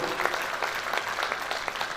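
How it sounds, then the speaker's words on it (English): An audience at a technical conference session applauds a presenter, a dense patter of many hands clapping steadily throughout, moderately loud and slightly distant in a large hall. "Clap for him."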